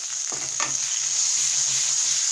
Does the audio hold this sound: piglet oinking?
no